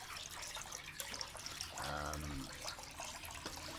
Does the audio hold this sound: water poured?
yes